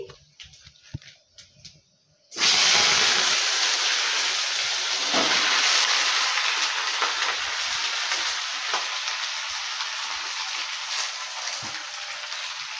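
Washed vegetables (cabbage, cauliflower stems, potato, eggplant, pointed gourd, tomato) tipped into a hot pan of oil with panch phoron, dried red chilli and bay leaf. After a few quiet clinks, a sudden loud, steady sizzling hiss takes over and slowly eases.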